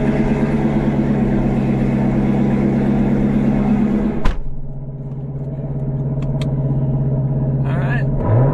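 Cold start of a Chevrolet Corvette C7 Z06 engine, a loud deep rumble that drops abruptly to a lower, steadier idle, with someone talking over it.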